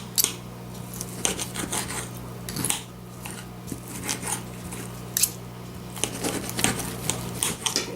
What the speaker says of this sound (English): So I'm just going to cut this roast up.